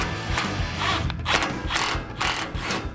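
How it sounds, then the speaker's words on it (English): A ratchet loosens the lower bolts of a truck bed, giving a close, loud run of rapid pawl clicks in repeated strokes with a steady back-and-forth rhythm. "Now we're gonna go ahead and remove these 2 lower bolts on each side"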